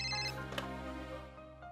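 A telephone rings in a home scene from a Hindi-dubbed Telugu thriller film. One sustained electronic ring is heard, steady and fairly close, with no one talking over it.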